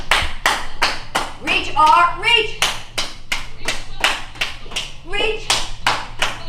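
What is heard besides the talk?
people clapping hands during a virtual exercise class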